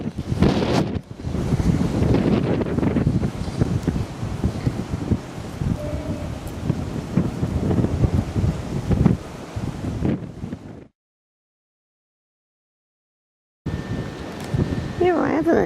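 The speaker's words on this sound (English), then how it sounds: "It's so windy" Strong wind buffets the microphone outdoors at a ford on a windy afternoon, a loud, constant roaring rumble with gusty swells, briefly cutting to silence before the buffeting returns.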